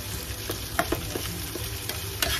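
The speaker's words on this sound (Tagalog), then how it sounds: "Kailangan natin lantahin muna ang sibuyas" Onions soften in a pan for egg adobo, a steady crackling sizzle with a few stirring scrapes and taps, close and continuous, with no talking.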